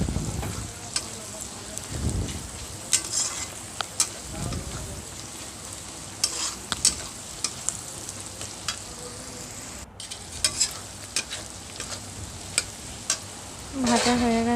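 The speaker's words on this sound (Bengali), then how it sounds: "প্রায় ভাজা হয়ে এসেছে।" A pan frying in butter while pasta is being prepared village style, giving a continuous crackling sizzle with frequent sharp pops and scraping stirs throughout, swelling louder toward the end.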